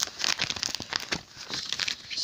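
Sticky paper seal being peeled off a PS2 game case, giving quiet, close crinkling and tearing rustles in uneven bursts with no talk.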